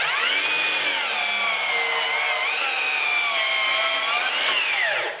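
Metabo HPT MultiVolt 36-volt 10-inch dual bevel sliding compound cordless miter saw bogging as it cuts through wood, a steady loud whining grind of about five seconds that dips in pitch partway and winds down at the end.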